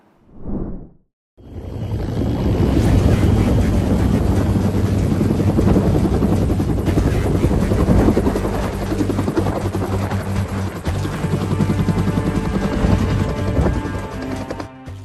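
A helicopter roars loudly and steadily with a thumping rotor beat, close by, in the mountains of Papua, Indonesia, after a brief muffled sound at the start.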